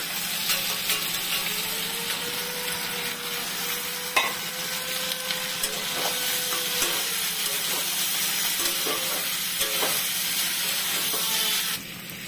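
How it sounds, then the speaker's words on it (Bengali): Fried vegetables for a bitter gourd curry are stirred in a hot pan, giving a continuous sizzle and hiss with scattered scrapes and taps of a spoon against the pan, steady throughout and cutting off near the end. "এবার আমি হলো গিয়ে সব সবজিগুলো যেগুলো ভেজে রেখেছি দিয়ে একটু নাড়াচাড়া করে"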